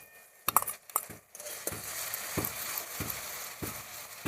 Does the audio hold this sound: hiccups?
no